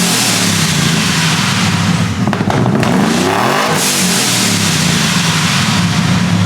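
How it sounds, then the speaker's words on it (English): A supercharged truck engine revs hard and loud, the whine of its blower carrying over the exhaust roar, with a few rising and falling throttle sweeps and no talking. "You can hear the blower over the exhaust."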